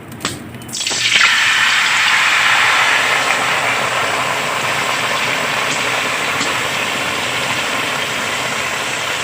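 Water gushes steadily into a pot after a brief clatter, two glasses poured over chicken feet, a continuous close pour that fades slightly toward the end.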